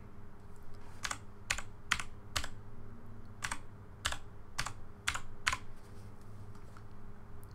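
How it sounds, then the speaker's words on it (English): Keystrokes on a computer keyboard while entering an IP address into a PC: about ten sharp, separate clicks in an uneven rhythm, close and fairly quiet over a steady low hum, with no talking. "type in the IP address that you'll see on the Switch into the PC"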